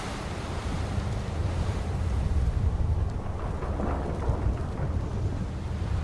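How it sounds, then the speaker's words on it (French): Howling sandstorm wind in the video game Beyond Two Souls, a loud, dense, continuous roar of rushing air with no speech over it. "Ouais, t'as une belle tempête de sable quand même."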